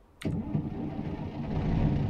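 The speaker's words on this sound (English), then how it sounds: "Get that big old beautiful engine cranked up." A big truck engine in American Truck Simulator cranks and catches abruptly, then settles into a steady, low, rumbling run up close with no talk over it.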